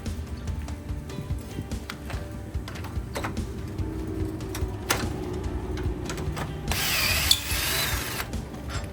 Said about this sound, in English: let's get a drill on this